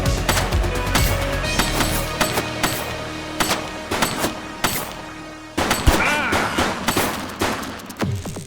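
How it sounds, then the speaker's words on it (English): Rapid gunfire bursts in the police video game The Precinct, loud sharp shots in quick clusters with short gaps, repeating throughout against a busy game backdrop. "He's shooting!"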